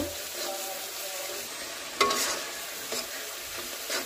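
A spice paste of ground spices, turmeric and chili powder with a splash of water sizzles steadily in a pan while being stirred, with a sharper scrape near the middle and a few lighter knocks, and no voices.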